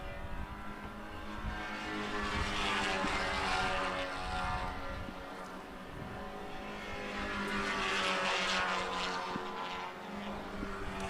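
Race cars roar through a Grand Prix, with a continuous loud engine drone that swells and fades as the cars pass.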